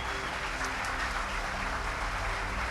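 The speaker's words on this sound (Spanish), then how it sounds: "Dele un fuerte aplauso al Señor." A church congregation applauds during a service, a steady wash of clapping at moderate distance that holds evenly from start to end.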